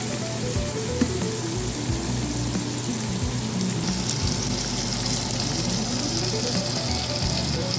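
Shrimp, garlic, onion and green onion frying in a pan, making a continuous even sizzle with a low steady hum underneath and a brief tap near the start.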